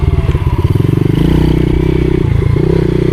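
A pit bike laps a flat track, its small single-cylinder engine revving loud and close with steady harmonic drone, rising and settling through throttle changes, with some clatter underneath.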